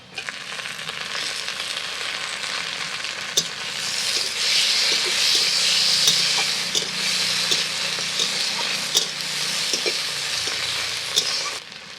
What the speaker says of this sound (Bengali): পেঁয়াজটা ভাজা হয়ে গেছে, টমেটোগুলো দিয়ে দিচ্ছি।